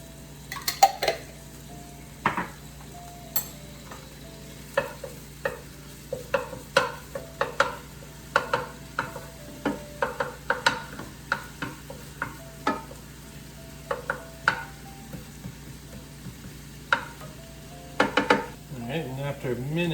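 Minced garlic cooking in a pan under a soft frying sizzle while a utensil scrapes and taps the pan in irregular bursts, close and clear, with a brief voice near the end.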